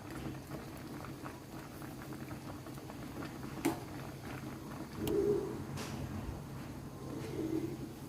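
Isan grilled-fish curry simmers in a small pot, a continuous close bubbling with occasional louder pops, while doves coo in the background.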